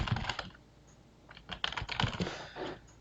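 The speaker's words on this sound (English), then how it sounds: "now I'm going to type in Stream Analytics here" Computer keys are struck in quick, uneven clusters of clicks and taps, close and fairly quiet, with short pauses between bursts and no speech.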